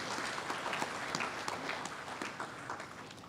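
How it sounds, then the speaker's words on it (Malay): An audience at a university campus ceremony gives applause welcoming the Prime Minister, a dense, steady wash of clapping heard from within the crowd, with no clear speech. "saya minta kita berikan tepukan paling gemuruh untuk Yang Berhormat Datuk Seri Perdana Menteri kita"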